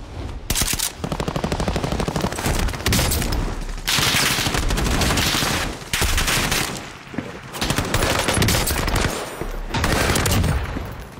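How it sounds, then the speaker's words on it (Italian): Rapid automatic XM4 rifle fire in a video game, several long loud bursts with brief gaps between them and no talk over it. "Guarda lì quanti colpi ho dovuto dare."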